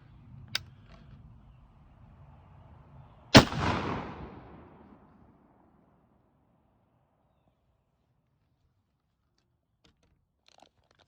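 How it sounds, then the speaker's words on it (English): A .54 caliber Hawken rifle firing a single sharp, loud shot into wood, with a rolling echo that fades over a couple of seconds before the scene goes nearly silent. "So I'm going to execute the shot."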